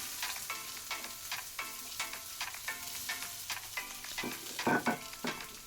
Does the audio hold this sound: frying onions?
yes